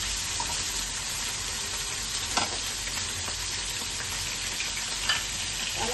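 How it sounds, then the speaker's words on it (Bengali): Pakal fish fries lightly in hot oil, a loud, dense, continuous sizzle with a few brief stirring clicks, close up and with no talking. "এটা হালকা করে ভাজবো, বেশি কড়া করবো না।"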